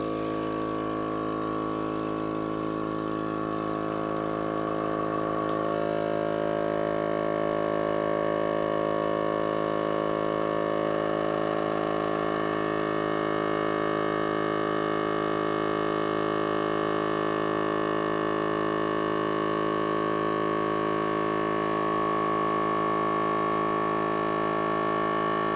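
An Avid Armor A100 vacuum sealer runs its marinate cycle, its pump motor giving a steady, close mechanical hum that shifts slightly in pitch early on, then drones on evenly.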